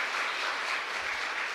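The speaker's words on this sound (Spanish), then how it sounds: "Fuerte aplauso entonces para nuestra comunidad." A congregation claps together during Mass in a chapel, a dense, continuous round of applause that stays steady and fairly loud throughout a short stretch.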